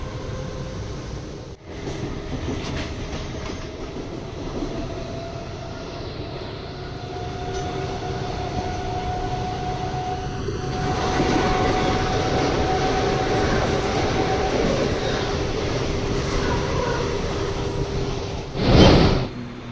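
A Mumbai Monorail train pulls away and runs steadily, a continuous loud rumble of wheels and motor with a rising whine, then a sharp burst of noise near the end.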